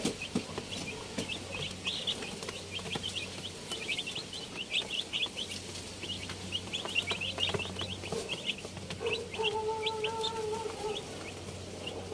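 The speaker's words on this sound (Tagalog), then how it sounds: "Sisilipin po namin ang aming mga maliliit na sisiw." Small chicks chirp continuously in a rapid, high, busy chorus over a steady low background hum, with a brief clearer call near the end and no talking.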